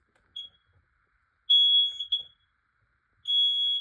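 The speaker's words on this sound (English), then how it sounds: "Shut up, you stupid smoke alarm!" A Sigma smoke alarm sounding after being set off with test spray, giving a short chirp and then two sustained shrill electronic beeps, loud and close in an otherwise quiet room.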